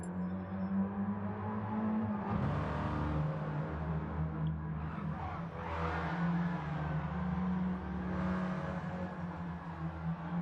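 Racing car engines idle and rev at the start of a multiclass league race at Brands Hatch in a sim racing game. A steady low engine drone runs throughout, with several rising revs and whooshes layered over it, and no talk.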